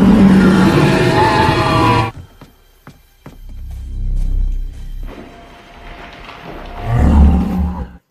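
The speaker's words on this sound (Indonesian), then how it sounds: "ada suara raungan di dalam hutan yang membuat mereka ngagibrik ketakutan" Loud creature roar in a forest from a horror film, a long rumbling roar that swells after an opening stretch of dense sound, then fades and returns strongly near the end.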